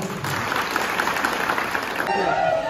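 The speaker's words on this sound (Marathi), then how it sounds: "त्यांच्यासाठी एकदा परत एकदा जोरदार टाळ्या होत्या" An audience at a company Diwali event claps loudly and continuously. A brief change in the sound comes near the end.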